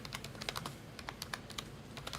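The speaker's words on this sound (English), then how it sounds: "I'm typing to the chat." Close, quiet typing on a computer keyboard, an irregular patter of crisp key clicks in quick bursts with no voices.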